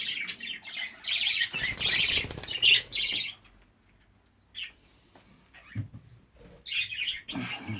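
Rainbow budgerigar chirping in bursts, with soft wing flutter as it flies off, close and fairly loud, with quieter gaps between calls.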